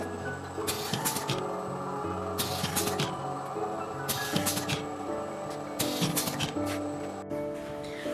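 An automatic paper tube crimping machine runs with repeated mechanical clanks and hissing bursts in a loose rhythm, a layered factory clatter close by with no talking.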